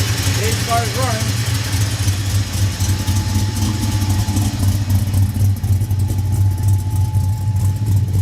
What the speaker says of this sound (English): Dave's car is running.